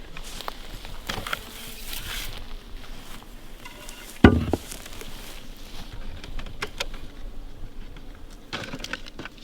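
Bees buzz around pollen traps at a beehive entrance in the evening, a low droning hum with scattered passes near and far and one brief knock midway.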